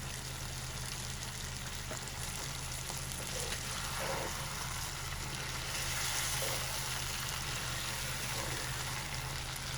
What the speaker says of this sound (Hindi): 5 मिनट हो गए हैं हमें गोश्त फ्राई करते हुए